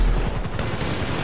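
Gunfire from aircraft in an aerial dogfight in GTA Online: a loud, close, rapid run of rhythmic shots rattling without a break for just over a second.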